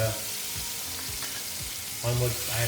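Sweet potatoes fry in butter in a pan, giving a soft, continuous sizzle with a few faint scraping stirs and a low hum that swells near the end.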